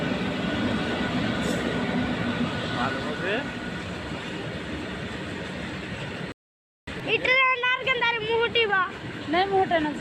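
A train arriving, heard as a loud, steady broadband rumble for several seconds; after a brief cut, voices talk close by over the continuing train noise.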